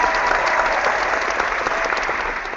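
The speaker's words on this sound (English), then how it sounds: "You could use the applause sound could go though." Steady, dense applause from a crowd, loud and close, with continuous clapping filling the whole stretch at an even level and no talk over it.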